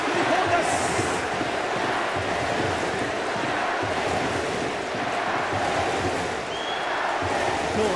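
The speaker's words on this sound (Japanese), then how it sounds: "360度高橋明文コールです。" A massive stadium crowd at Koshien chants a player's name, Takahashi, in a steady, rhythmic roar that surrounds the field, with commentators talking over it.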